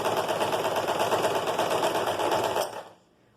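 A sewing machine runs a steady, fast stitching rattle along a pleated skirt seam for about two and a half seconds, then stops and the sound quickly dies away.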